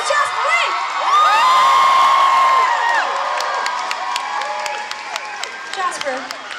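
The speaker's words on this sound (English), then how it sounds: "we've got to give an extra big round of applause for the remaining band members on bass guitar" A concert crowd at McEwan Hall in Calgary cheers loudly with high whoops and shouts, then breaks into scattered clapping as the roar slowly fades.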